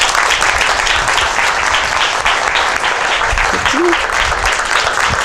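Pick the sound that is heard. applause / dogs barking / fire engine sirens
applause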